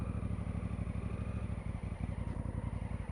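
A Honda Africa Twin DCT motorcycle being ridden, its engine giving off a steady, pulsing drone throughout, with a faint high whine running above it.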